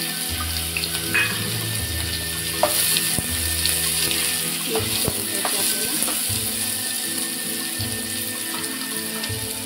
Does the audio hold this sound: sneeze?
no